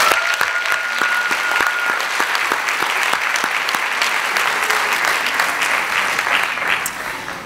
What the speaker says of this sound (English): offer a round of applause to our finalists